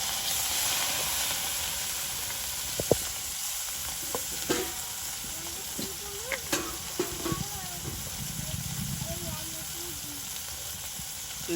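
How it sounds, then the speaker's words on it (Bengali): Small river prawns fry in hot oil during village cooking, a soft continuous sizzle and hiss with scattered clicks and stirring scrapes, fairly quiet and close, with a little talk. "তেল বসাই দিছি, দিয়ে দিচ্ছি ইসা মাছগুলো।"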